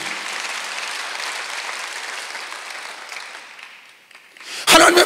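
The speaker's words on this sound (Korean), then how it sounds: "박수 한번 주세요." A church congregation at a Sunday worship service claps together in a steady, full round of applause that thins out after about four seconds, followed by a brief, sharper burst of sound at the very end.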